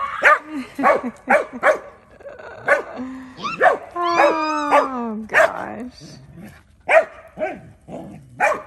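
Several dogs bark in short, loud bursts, with a few higher yips and a long rising whine between them. The barking is close and comes in an uneven rhythm. People talk and exclaim over the barking at times.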